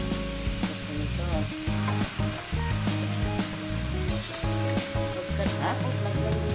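Chicken breast sizzles in a hot pan after liquid seasoning is added: strong, continuous frying crackle with intermittent stirring and scraping sounds close by.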